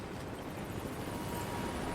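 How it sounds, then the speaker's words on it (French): A combat helicopter approaches in the video game Rise of the Tomb Raider, a steady, loud rotor and engine rumble filling the brief moment with no speech. "ah non, un hélicoptère de combat, c'est toujours la merde"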